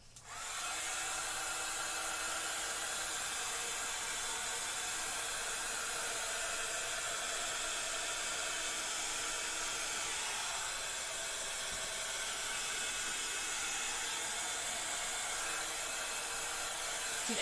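A hair dryer blows steadily at close range, a loud continuous whooshing hiss that holds an even level throughout.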